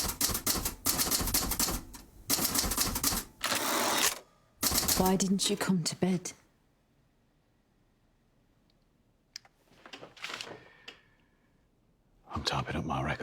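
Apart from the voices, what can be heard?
typewriter typing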